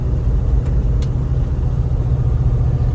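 A 1984 Jeep Grand Wagoneer on a test drive, its engine giving a steady, loud, low drone heard from inside the cabin, with a couple of faint brief high squeaks.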